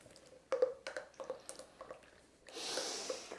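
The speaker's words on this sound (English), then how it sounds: "And just give that a good stir in." A spoon stirs Baileys into a melted mixture for a banana cake, giving quiet wet squelches, clicks and drips in an uneven rhythm, then a brief soft hissy swirl near the end.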